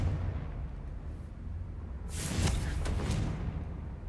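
A Confringo fire spell in Hogwarts Legacy sets off a burst of crackling explosions partway through, over a low rumbling game background.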